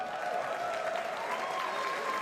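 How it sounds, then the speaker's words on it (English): A large live crowd in London cheers and applauds, a dense, continuous roar of clapping and voices held at steady moderate loudness for the whole span. "Can we have a cheer for Magnus?"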